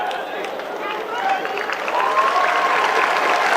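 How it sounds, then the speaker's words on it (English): Spectators at a college baseball game between Liberty and Jax State applaud a player, a spread-out round of clapping that swells slightly under a play-by-play announcer's voice. "And gets a round of applause from the crowd here."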